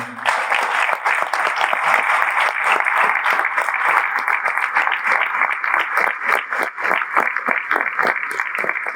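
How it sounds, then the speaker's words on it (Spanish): A church congregation applauds during a Spanish-language service, loud, continuous clapping that falls into a quick, fairly regular rhythm and keeps going throughout. "¿Cuánto le dan un aplauso al Señor?"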